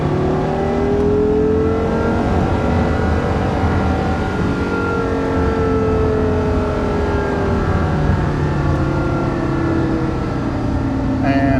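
Porsche Carrera GT engine droning and revving continuously from inside the cabin while driving on a wet road, with pitch rising and falling as the car accelerates, loud and close, with people talking over it.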